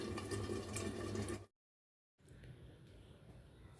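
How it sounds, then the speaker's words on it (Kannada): Chutney boiling under a lid in a covered pan gives a low, quiet bubbling simmer, broken by a short stretch of total silence before the soft bubbling resumes. "ಇದೆ ಮ್ಯಾಲೆ ಮುಚ್ಚಿ ಬೇಗ ಉದಿ ಕುದಿಸ್ಕೊಳ್ಳೋಣ"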